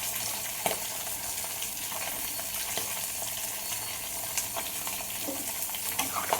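A meat curry cooks in a pot after water and salt go in, a constant bubbling sizzle with light stirring scrapes, close and steady.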